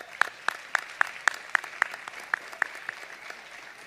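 A small audience at a school board meeting claps for a performer with sparse, evenly spaced handclaps that sound fairly faint and thin, with no cheering.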